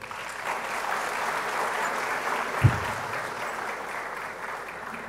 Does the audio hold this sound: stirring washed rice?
no